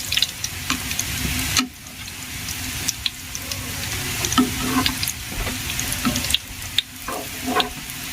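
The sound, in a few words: pitha rice cakes frying in oil in a frying pan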